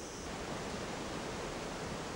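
Water runs down into a hole along a cliffside path, a steady faint rushing hiss with no speech.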